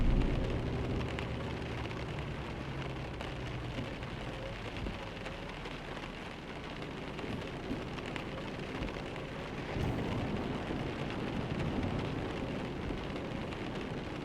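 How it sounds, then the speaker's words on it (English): Heavy rain with rolling thunder in the Euro Truck Simulator 2 video game, a continuous drumming downpour swelling and easing over the stretch, with low rumbles beneath and no speech. "Just joining me here in a thunderstorm."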